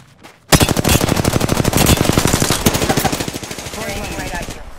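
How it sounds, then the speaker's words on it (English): Fast automatic gunfire in Apex Legends, a dense rapid stream of close shots lasting a few seconds before easing into quieter, more distant fire. "Getting shot at."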